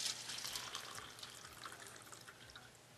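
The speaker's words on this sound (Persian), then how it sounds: "این گوجه‌ایه که در واقع من با آب شهری دارم میشورمش." Tap water from a city supply runs and splashes over a tomato being rinsed, a soft continuous trickle close by that slowly fades, with no talking.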